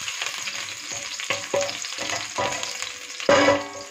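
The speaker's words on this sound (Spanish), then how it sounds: "Esto aromatizamos un poquito con el ajo, el aceite." Sliced garlic fries in oil over medium-low heat, making a close, continuous sizzle broken by irregular clinks and scrapes of stirring, with a louder burst near the end and no voices.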